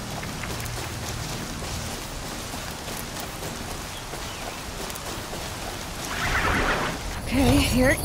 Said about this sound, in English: than waiting for the storm to hit.